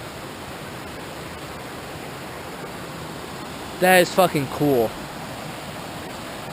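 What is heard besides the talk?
waterfall at Possum Creek, Cumberland Trail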